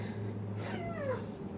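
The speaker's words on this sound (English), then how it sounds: "an annoying cat that likes to climb all over things" A house cat gives a single drawn-out meow that slides downward in pitch, close by over a low steady hum.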